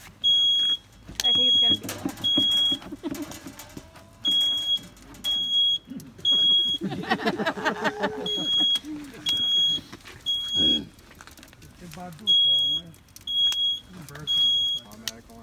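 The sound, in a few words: smoke detector alarm beeping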